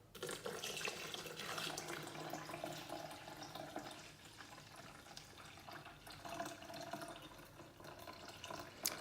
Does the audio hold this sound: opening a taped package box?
no